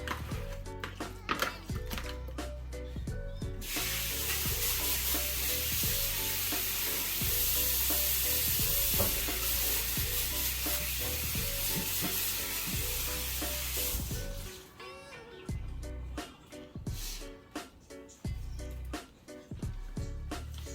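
Oil being stirred in a heated frying pan gives a steady, close sizzle broken by repeated utensil taps and scrapes, a denser hiss in the middle stretch, then lighter clinks near the end.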